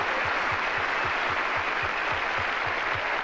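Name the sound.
audience applause at country music awards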